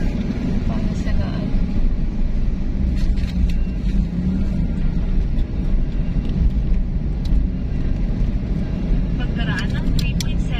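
Road traffic heard from inside a moving vehicle on a provincial road in Nueva Ecija, a continuous low rumble of engines and tires with occasional higher noises and a voice talking over it.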